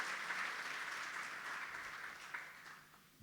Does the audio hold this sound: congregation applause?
yes